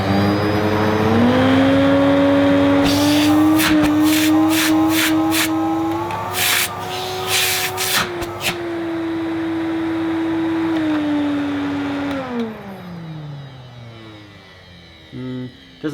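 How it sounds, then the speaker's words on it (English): An Electrolux 380 Turbomatic vacuum cleaner runs with a steady motor whine that rises as it spins up, then drops away near the end, with brief clattering and rubbing noises partway through. "Doesn't sound as smooth as an Electrolux should sound, I don't think."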